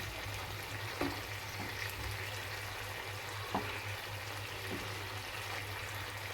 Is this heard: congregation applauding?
no